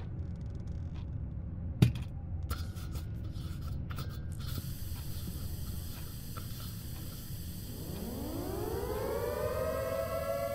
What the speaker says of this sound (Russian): Сирена.